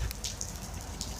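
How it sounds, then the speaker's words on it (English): Rain pours steadily on the Trail of the Coeur d'Alenes, a faint, even hiss of falling water with a few scattered patters over a low rumble, brief and continuous. "and rain, and more rain, and more rain"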